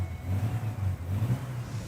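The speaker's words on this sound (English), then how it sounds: "the roar of your engine sets your emotions soaring and quickens your pulse" An air-cooled car engine roars and revs in a steady, close, low-pitched drone, swelling slightly in a few short surges with no voices over it.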